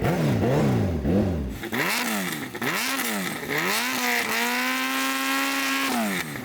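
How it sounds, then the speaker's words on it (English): Suzuki Hayabusa motorcycle engine revving hard in repeated sweeping blips, rising and falling pitch, then holding a high sustained rev near the end, loud and close with no talk. "Rich, can you rev up your bike?"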